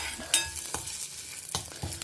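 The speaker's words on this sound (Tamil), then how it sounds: "தேங்காய் எண்ணெயில் இந்த கொப்பரை வதக்கிறச்ச" Dried coconut copra frying in coconut oil, a soft steady sizzle broken by several sharp scrapes and clinks of a spoon stirring the pan, close and moderately quiet with no voices.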